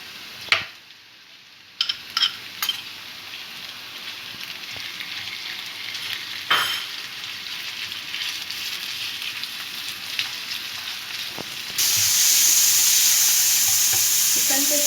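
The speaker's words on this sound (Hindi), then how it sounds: "इसको हल्का सा स्टर फ्राई करेंगे।" Chicken mince and onion stir-fry in a pan, with soft sizzling broken by a few sharp spoon scrapes and clatters early on, then a louder, steady sizzle near the end.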